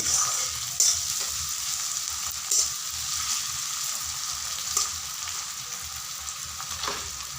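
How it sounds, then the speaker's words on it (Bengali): Tomatoes fry lightly in a pan for egg curry, giving a continuous bright sizzle, with a few short stirring scrapes and clicks spaced through it. "টমেটোগুলোকে আমি হালকা ভেজে নিব"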